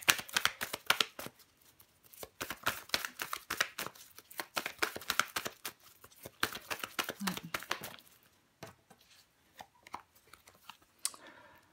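Tarot cards are shuffled, laid out and flipped over on a table in a steady run of close, crisp card snaps and slides, with a few scattered flicks at the end.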